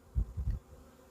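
Honeybees buzz during a spring hive inspection, heard as three low, throbbing bursts close by, each a fraction of a second long, then a quieter hum.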